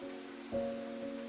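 Steady soft rain patters on a surface throughout a cozy bedtime-story setting, a faint, even wash with a low sustained hum beneath it and no talking.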